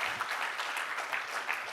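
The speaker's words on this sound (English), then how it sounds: "Give yourselves a nice big round of applause one last time." An audience gives a short burst of steady, dense applause that is fairly soft and distant.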